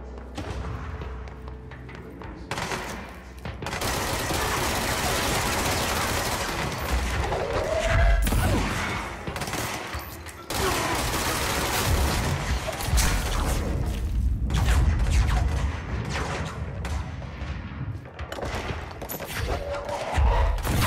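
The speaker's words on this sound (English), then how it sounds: "Sounds like we got shots firing." Gunfire rattles through combat in the video game Control, dense bursts and booming impacts over a continuous roar, loud and sustained for most of the stretch with brief lulls.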